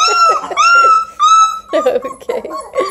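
A three-week-old male Bluetick Coonhound puppy whimpers and yips in a run of high, close, rising cries, with a little background voice.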